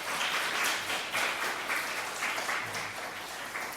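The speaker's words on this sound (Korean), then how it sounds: "우리 옆에 있는 분들 박수로 환영하겠습니다" A church congregation claps in welcome during a Sunday service, with steady, moderately loud rhythmic clapping throughout.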